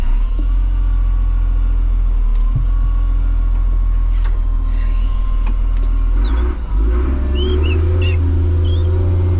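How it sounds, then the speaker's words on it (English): A 2005 CAT 950G wheel loader drives along, its diesel engine rumbling steadily and loud up close, with a few clunks and squeaks and the engine note shifting lower and heavier near the end. "I'm gonna drive it up to the parking lot here."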